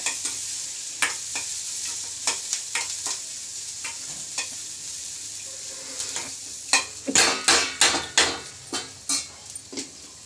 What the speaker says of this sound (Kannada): ಈಗ ಚೆನ್ನಾಗಿ ಒಗ್ಗರಣೆ ಆಗಿದೆ.